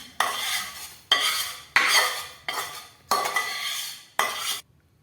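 Five long, loud scraping strokes of a spoon through a thick ladoo mixture as jaggery syrup is stirred in, in a metal pot, each separated by a short pause.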